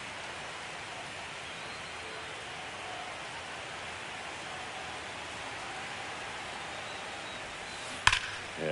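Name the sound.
rain falling on baseball stadium in video game MLB The Show 25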